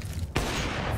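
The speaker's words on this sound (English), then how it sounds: "What a wall bang!" A loud gunshot fired through a wall in Counter-Strike: Global Offensive, heard in a pro match between Astralis and Vitality, lands as a single sharp crack over a dense bed of game noise.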